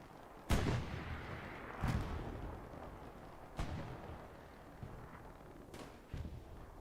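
A 75 tank gun firing in Hell Let Loose: several separate, booming distant shots spread out over a few seconds, each a sharp crack trailing into a low rumble.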